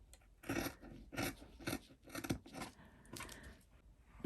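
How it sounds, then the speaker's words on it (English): Scissors snipping through paper while a beanie pattern is cut out for sewing, a series of close, rasping cuts in an uneven rhythm with short pauses between strokes. "I'm cutting the paper."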